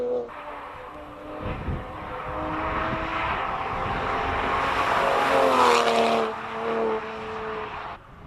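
A Toyota Supra with a B58 engine races up a hillclimb course, its engine note rising through the gears with a harmonic whine as it passes nearby, loud at the middle and fading away at the end.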